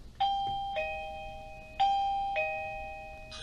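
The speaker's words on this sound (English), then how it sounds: "Press the bell button and tap Next." An XTU J7 Plus doorbell camera chime sounding after its bell button is pressed: two clear ding-dong pairs of bright electronic tones, each ringing out and fading, with a faint click at the end.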